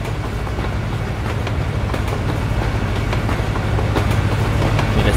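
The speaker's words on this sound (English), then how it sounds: "So there you can hear the rail sound. See how loud the train is." Train rolling past on rails in American Truck Simulator, a loud, steady rumble with a continuous low drone and faint rhythmic clicks of wheels over track joints, close and unbroken throughout.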